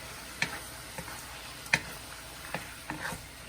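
Bamboo shoot, zucchini and carrot stir-fry in a hot pan for drunken noodles, a low steady sizzle punctuated by several sharp clacks of a utensil against the pan, close up.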